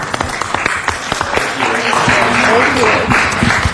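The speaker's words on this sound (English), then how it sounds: "Round of applause for our interns." Applause at a city council meeting honoring interns, a crowd clapping loudly and continuously with talk and voices mixed in over the clapping.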